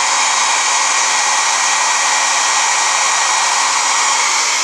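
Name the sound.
hair dryer blowing on high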